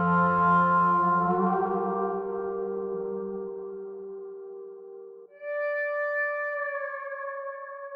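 Virtual pedal steel playing sustained notes that bend and glide between pitches, a full lower chord fading and then a higher two-note interval entering cleanly, smooth and resonant with no talking.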